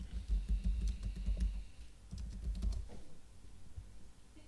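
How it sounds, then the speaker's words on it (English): Rapid bursts of typing on a computer keyboard as a city and state are entered into a trail-finding website, close and clear with a short pause midway. "type the city and state"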